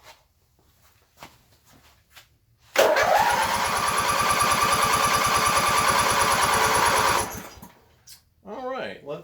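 A Coleman Powermate 7000 commercial electric generator with an 18 HP twin engine, choked, cranks and catches into a loud, steady, throbbing run for several seconds before cutting out, with brief talk before and after.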